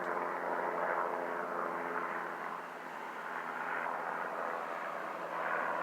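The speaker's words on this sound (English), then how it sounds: "Let's get a shot of this helicopter" A helicopter passes overhead, its rotor and engine noise a moderately faint, continuous drone that swells and eases slightly as it flies.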